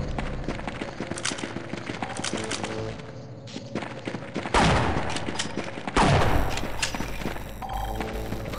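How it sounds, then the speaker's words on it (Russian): Gunfire from an allied player in a shooter video game: a sustained, dense volley of shots with heavy thuds, swelling into louder close bursts twice midway, with no voices. "Охреневший союзник стреляет по мне."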